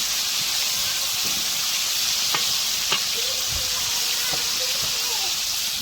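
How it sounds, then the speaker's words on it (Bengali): Food frying in a pan until reddish brown, a steady broad hiss and sizzle that holds at an even level throughout, with a few faint clicks and light stirring sounds under it and no clear talk. "ভালো করে ভাজি নিতেছি লাল লাল করে"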